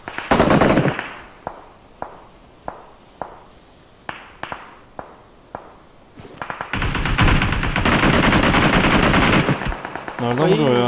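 Rapid-fire gunshots crack out in PUBG Mobile: a loud opening burst, then a string of evenly spaced single shots, then a long continuous automatic volley. A player talks briefly between the shots.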